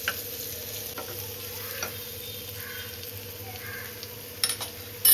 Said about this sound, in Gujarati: દોઢ ચમચી જેટલું લસણની પેસ્ટ નાખી છે મેં